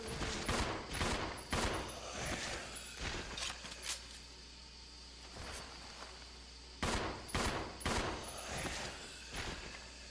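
Gunfire in the video game Resident Evil 0 HD Remaster, several clusters of sharp loud shots in quick bursts with quieter gaps between, no voices.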